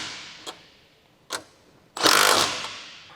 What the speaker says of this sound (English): Using the 15mm deep socket and impact wrench,